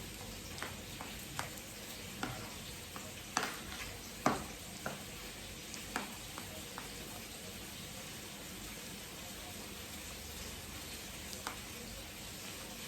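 Chicken pieces fry in a pan with a soft, steady sizzle, punctuated by scattered clicks and taps of utensils, fairly quiet and close, with no voices.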